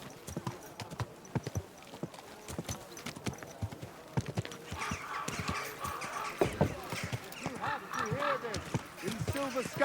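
Horse hooves clip-clop at a walking pace in the medieval video game Kingdom Come: Deliverance 2, a steady stream of hoof strikes growing busier over time, with occasional voices and ambient game sounds around them.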